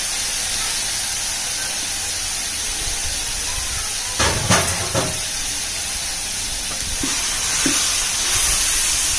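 Two and a half kilograms of onions frying in a large biryani pot, a broad steady hiss of sizzling oil with a few clattering stirs and knocks midway, fairly loud and close.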